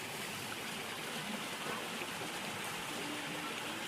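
A wide river with a strong current gives off a steady, broad rushing wash with no breaks, even and moderately faint throughout.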